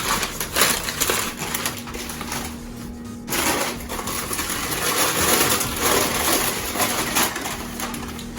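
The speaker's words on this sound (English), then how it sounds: "Let me unwrap these." Thrift store purchases being unwrapped from their wrapping, a close, loud run of crinkling and crumpling paper with rustles and a brief pause partway through, heard without speech.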